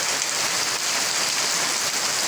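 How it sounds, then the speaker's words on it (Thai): Steady heavy rain hisses on surfaces as a dense, even wash of sound from start to finish, with no voices. "ฝนตก"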